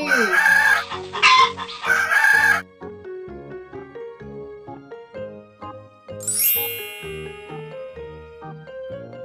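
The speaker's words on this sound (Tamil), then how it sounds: "cock சேவல்." A rooster crows loudly at the start, followed by a bright chime and a bouncy musical backing that continues to the end.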